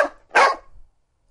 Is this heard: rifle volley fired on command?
no